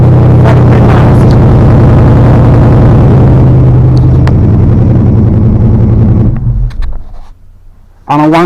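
Engine of a Mercedes Sprinter-based RV at auction idling loudly and close, a steady low rumble with a rhythmic pulse that drops away abruptly near the end.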